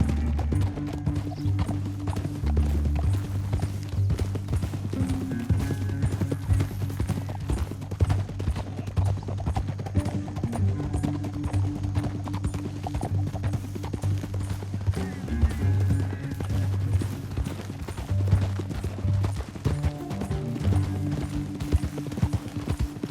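Horse hooves in Red Dead Redemption 2 give a steady, continuous clip-clop from start to finish over sustained low tones, with no talking.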